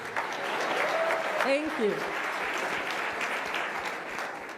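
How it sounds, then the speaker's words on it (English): Young people at a Rwandan gathering clap steadily in a hall, moderately loud and sustained, while someone briefly speaks over the applause. "So, yes, you can clap."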